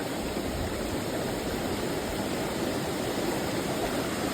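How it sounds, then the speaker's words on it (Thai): Khlong Nam Lai waterfall in Khlong Lan, Kamphaeng Phet, pours in a steady, broadband roar of falling water that stays even and continuous from start to finish, with no voices over it. "น้ำตกคลองน้ำไหลธรรมชาติล้วนๆเลย"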